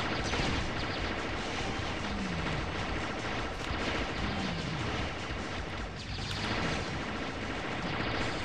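Rapid gunfire from destructive weapons in the video game Alien Shooter, a dense continuous barrage of shots and blasts at full loudness throughout with no pauses.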